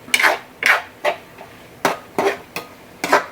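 A metal lid set down on a home cooking pot while making bean sprout spring rolls, heard as seven sharp clanks and rattles in a steady rhythm, close and fairly loud with no voices.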